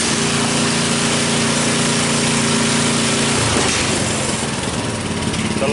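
Murray riding mower engine running close by with a steady buzzing idle, then revved up sharply partway through into a rougher, busier roar.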